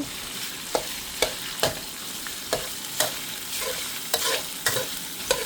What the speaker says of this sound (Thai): ผัดเนื้อหมูให้สุกนะคะทุกคน